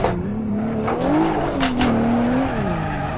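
A car spins donuts in the Assetto Corsa racing game, its tires squealing continuously over a wavering engine drone, loud and close for a few seconds.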